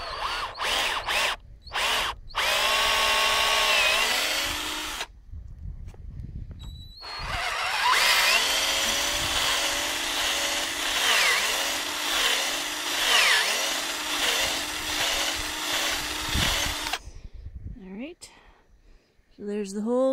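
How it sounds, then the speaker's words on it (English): A power drill bores a tap hole at an upward angle into a maple tree, whining in short bursts and then in long continuous runs that rise and fall as the bit is worked in and out, with talking in between. "So let's go right here and start drilling"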